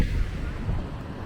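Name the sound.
strong wind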